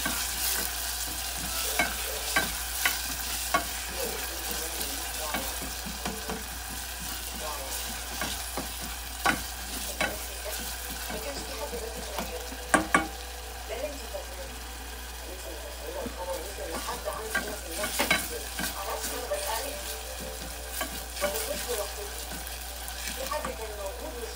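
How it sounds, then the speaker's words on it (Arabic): Garlic sizzles and crackles steadily in a frying pan as it is stirred with scattered scraping strokes, with a voice talking over the continuous frying. "معلقة توم، نقلب شوية كده"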